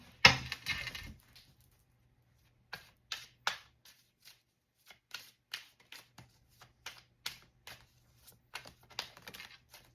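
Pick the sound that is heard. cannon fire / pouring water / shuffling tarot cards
shuffling tarot cards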